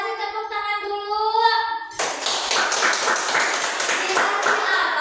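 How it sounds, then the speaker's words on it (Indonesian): Schoolchildren in a fifth-grade classroom break into a burst of fast, dense clapping that carries on steadily to the end, after a short stretch of a voice at the start. "Kasih tepuk tangan dulu."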